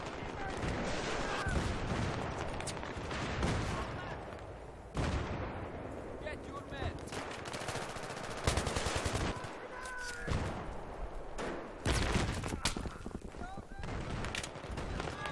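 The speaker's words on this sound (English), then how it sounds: "of course an LAV pulls up behind us and just destroys me" Heavy gunfire and booming cannon bursts from an LAV armored vehicle in the video game Battlefield 3, loud and repeated in clusters with brief gaps, while players talk over the battle.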